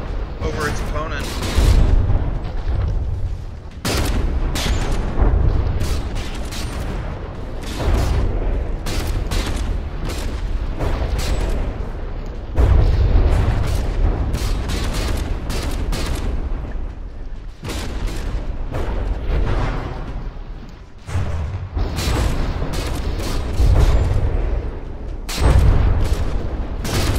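Heavy, continuous gunfire and booming cannon shots from combat vehicles in a video game battle, loud and dense throughout with brief lulls, while a commentator talks over it.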